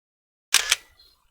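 Canon T90 film SLR shutter firing once in aperture priority at about 1/500 s: a single sharp mechanical clack with a quick double snap, close and crisp, fading into brief whirring after silence.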